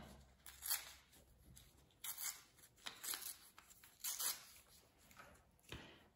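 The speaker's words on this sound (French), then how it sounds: "Vous allez déchirer les bouts." Quiet, close tearing of paper edges in several short rips and crinkles, irregularly spaced with brief pauses between them.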